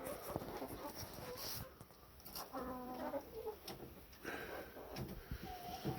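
Hens cluck softly inside a backyard coop during a snowy Atlantic Canada winter, faint and intermittent amid low rustling and background noise.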